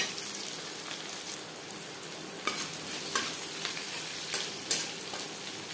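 Garlic crackles and sizzles in hot oil for taro greens, a dense close frying hiss with scattered sharp pops and occasional stirring clicks throughout.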